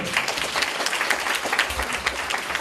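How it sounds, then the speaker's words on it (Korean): Sustained audience applause in a hall after a university special lecture at Kyungpook National University, with many hands clapping in a dense, even roar that carries steadily from start to finish. "박수 한번 주세요."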